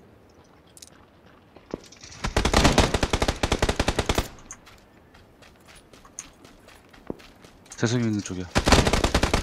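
Rapid automatic gunfire bursts from the video game PUBG, with dense repeated shots and sharp single cracks, loud and close, while players talk briefly over the shooting.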